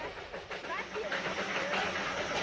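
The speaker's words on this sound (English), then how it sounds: "18 little locomotives run back and forth on the Darjeeling Himalayan line" A Darjeeling Himalayan Railway steam locomotive train in India gives a brief burst of hissing and rolling clatter at moderate loudness, with a voice speaking over it.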